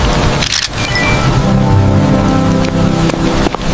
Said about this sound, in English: I didn't know it was gonna rain, or I would have brought my umbrella.